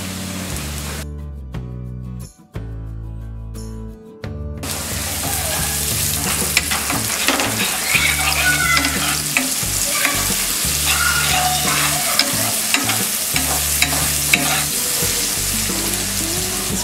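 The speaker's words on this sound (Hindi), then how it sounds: "तेल गरम हो गया है, अब हम इसमें डालेंगे ये अनियन" Chopped onions hitting hot oil in a pan with salt, a loud steady sizzle and frying hiss with repeated stirring scrapes, after a brief quieter moment at the start; no talk.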